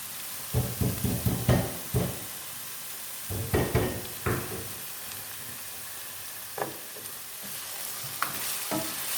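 Crushed galangal, turmeric leaves, lime leaves and bay leaves sautéed in oil for rib rendang, with a constant sizzle broken by bursts of spatula scraping and stirring, close and loud, without speech.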